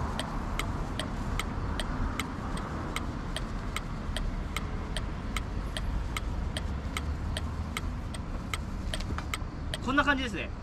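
A 3-meter awning extends on a Jayco Jay Flight 154BH travel trailer: a steady mechanical whir with evenly spaced clicks repeating about twice a second, ending with a brief louder rattle.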